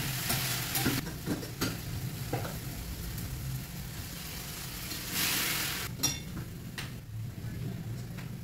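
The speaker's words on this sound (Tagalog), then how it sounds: "nagigisa ko lang siya guys" Beef sinigang ingredients sautéing in a pot, a continuous close sizzle and frying hiss broken by occasional clinks and stirring knocks, with no speech.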